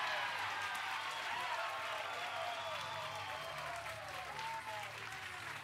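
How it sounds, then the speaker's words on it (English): Big crowd applause at a professional women's bowling tournament, a steady dense wash of clapping across the whole stretch with a commentator's voice faintly running beneath it. "Big crowd applause on that one from Missy."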